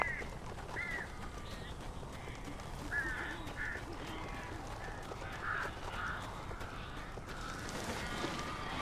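Crows caw in Alan Wake Remastered, several separate hoarse calls scattered over a steady, dark ambient background with no voices.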